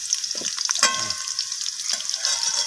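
Cut potato pieces frying in hot oil, a bright continuous crackle and sizzle close by, with a few clattering scrapes from stirring, no speech.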